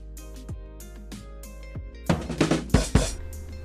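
A downloaded LINE app notification sound on an OPPO Android phone: a few short plucked tones with a low hum underneath, then a louder burst of bright percussive hits near the end, close and alone.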